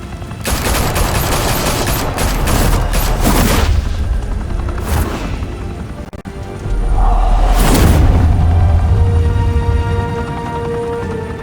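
Loud bursts of video game gunfire erupt in the Batman Telltale Series, with rapid volleys and booming shots in two intense clusters separated by a short lull.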